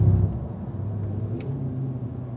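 A Cadillac CTS-V on a track through the S curves, its engine a steady low rumble with a brief louder surge at the start, then an even drone under a faint high whine.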